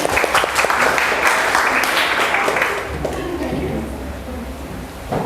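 A classroom of students claps hands together in a dense burst that gradually thins and fades, with chatter and voices mixing in beneath as it dies down.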